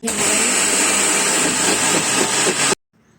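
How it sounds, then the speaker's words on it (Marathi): A kitchen mixer grinder pulverises soaked ration rice into fine rava for idli, giving a loud, steady whirring roar for almost three seconds before it cuts off abruptly into near silence. "आता हे मिक्सरवरून बारीक करून घेणार आहे"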